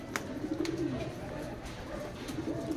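Pigeons coo softly and continuously in a racing pigeon loft, with brief wing flutters as birds arrive and land during a race from Pasacao, Camarines Sur; low murmuring voices sit faintly in the background.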